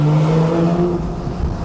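A Porsche 911 (991.1 Carrera) with an Akrapovic titanium slip-on exhaust drones low and steady, throaty and rumbling, fairly loud and close, at town speed, easing slightly toward the end.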